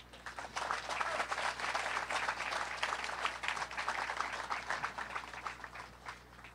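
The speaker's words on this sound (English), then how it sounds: "And now may I have a round of applause for Gunnery Sergeant Taylor." Audience applause at a Museum of the Marine Park presentation ceremony, a steady dense round of clapping from many hands, fairly loud and sustained before tapering off at the end.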